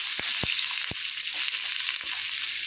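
Nigella seeds and green chilies, with cinnamon and cloves, fry in hot oil, a steady close hiss with a few sharp crackles and stirring knocks, no talk.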